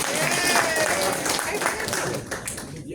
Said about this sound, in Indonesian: Kita tutup, tolong tepuk tangan dulu nih Bang Heri.